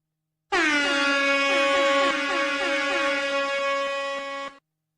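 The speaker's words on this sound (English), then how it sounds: "which is useful for the MLG air horn, as I'll show here real quick." MLG air horn sound effect triggered from an Elgato Stream Deck Mini soundboard, a loud blaring horn with rapid repeated overlapping blasts lasting about four seconds, then cutting off.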